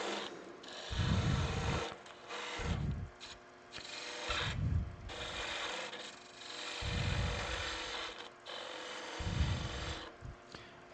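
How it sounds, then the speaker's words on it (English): A skew chisel cuts wood on a lathe while a French rolling pin is turned, making repeated rasping, rubbing strokes in a slow rhythm over a steady machine hum. "if you want to follow through and use the skew, use the long point, cut all the way in"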